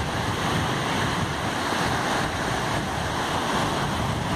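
Ocean waves wash onto a beach in a steady broadband roar with some wind buffeting the microphone, loud and continuous with no voices.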